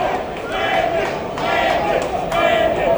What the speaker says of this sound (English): The Brandon chants coming from the crowd.